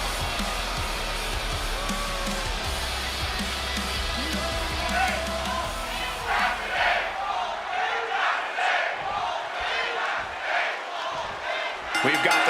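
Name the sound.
wrestling crowd cheering in video game WWE 2K26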